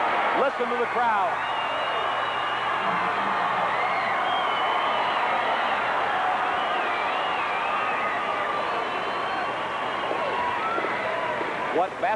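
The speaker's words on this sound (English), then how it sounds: "Listen to the crowd." Crowd roaring and cheering at the close of a 1983 high school boys basketball championship game, a sustained dense swell of voices and whoops over a broadcaster talking throughout.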